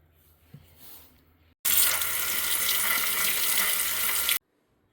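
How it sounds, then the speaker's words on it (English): Sweet potatoes scrubbed and washed under a running kitchen tap, a steady loud rush of water that starts abruptly after a quiet moment and cuts off sharply near the end. "give these a really good scrub and wash because we're going to cook them with the skins on"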